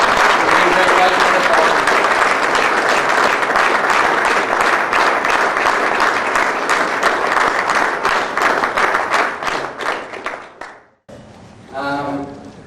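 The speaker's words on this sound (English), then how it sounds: "please give your parents a big round of applause" An awards-dinner audience, gathered for a 2004 youth team's season banquet, gives the players' parents a long, dense round of applause that fades after about eleven seconds, and a voice then begins speaking.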